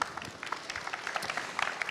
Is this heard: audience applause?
yes